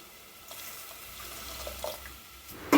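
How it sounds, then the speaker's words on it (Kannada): Water poured into a pot of rasam made with ground paste: a brief, quiet, steady trickle and splash, heard close and alone. "ಎಷ್ಟು ಬೇಕು ಅಷ್ಟು ನೀರು ಹಾಕೋಬೇಕು"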